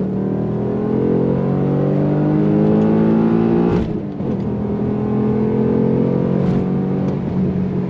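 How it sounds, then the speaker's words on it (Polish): An Alfa Romeo V6 Busso engine from a 1990s sedan revs with a strong, harmonic-rich drone, a brief throttle lift near the middle before climbing again, loud and close throughout. "Potem były silniki V6, V6 Busso. O fantastycznym brzmieniu."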